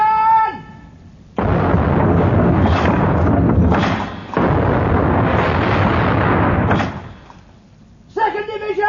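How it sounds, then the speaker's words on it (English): A broadside from a sailing warship's cannons, firing red-hot shot at an enemy ship in a naval battle, brings loud heavy booms that merge into a long rumbling roar lasting several seconds, with a brief pause partway through. Shouted voices are audible before and after. "Open fire"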